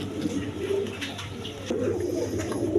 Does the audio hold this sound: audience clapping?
no